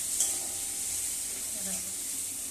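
Cauliflower frying in a pan with tomato and spices sizzles steadily and close, with soft scraping as it is stirred, and no voices over it.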